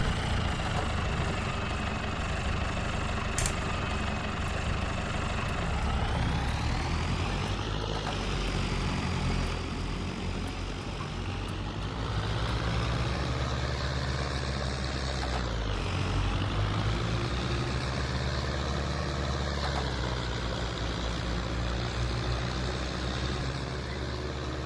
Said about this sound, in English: So far the tractor is handling extremely solidly.